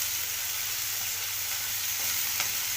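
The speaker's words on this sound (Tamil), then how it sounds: "இப்போ நல்லா சௌச்சௌவை போட்டு நல்லா வதக்கணும்." Chayote being sautéed with onions in a pan, a steady, even sizzle and faint stirring that continues throughout, close and moderately loud with no talking.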